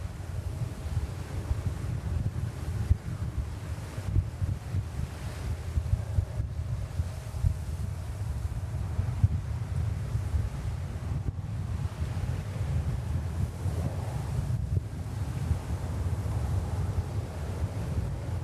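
Strong wind blowing at JFK airport in New York, buffeting the microphone with a constant, loud low rumble and roar that gusts slightly throughout the long stretch, with no talking.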